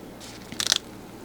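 A stiff, aged Walbro HDC-46 diaphragm from a Homelite 350/360 chainsaw carburetor gives a brief, close crinkly crunch as it is handled, a quick cluster of crackles over faint background hum.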